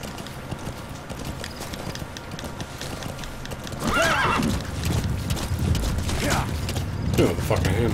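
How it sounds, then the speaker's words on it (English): A horse gallops with steady clip-clop hoofbeats and lets out two whinnies in a video game, the neighs loud and close over a constant mechanical game background. "Magic horsey."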